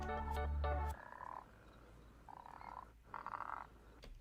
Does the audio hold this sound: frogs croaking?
yes